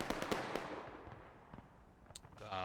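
Muskets fire at long range in the American Civil War game War of Rights, heard as a quick cluster of faint, distant cracking pops at the start, then scattered quieter shots over a low battlefield hiss.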